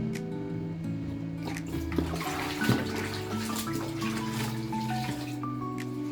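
Steady rush of tap water pouring and splashing in a shower while coffee scrub is rinsed off skin, continuous and fairly loud with a faint musical tone underneath.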